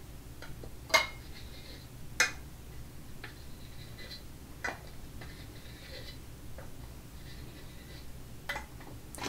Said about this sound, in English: Take these brand new lids and you just put them on.